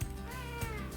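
Cat meowing, one short drawn-out meow with a rising-falling tone, close by and alone over low background hum.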